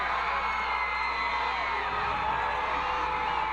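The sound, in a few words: cheering home crowd of Dexter Bearcat football fans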